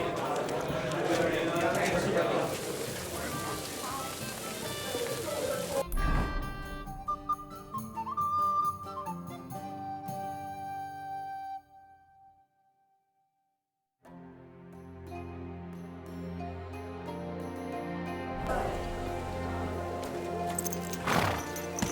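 Horse hooves clip-clop in the medieval role-playing game Kingdom Come: Deliverance 2. The faint, rhythmic hoofbeats sit under orchestral game music, which cuts out briefly and then returns.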